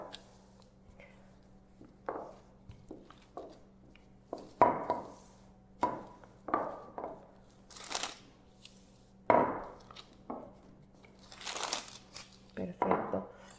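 Spiced chocolate Christmas cookie dough being rolled out on a floured surface, a series of soft thuds and rustling rolling strokes at an irregular pace, fairly close and quiet.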